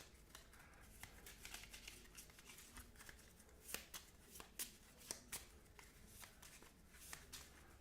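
Playing cards are shuffled repeatedly during a Marvel Champions card game, a quiet run of crisp riffling flutters and soft snaps close by, with no talk over them.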